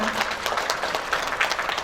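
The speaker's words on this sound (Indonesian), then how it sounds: "Tepuk tangan untuk kita semua" An audience of community health cadres at an Indonesian health program event gives brief applause, a steady, moderately loud patter of many hands clapping with no speech on top.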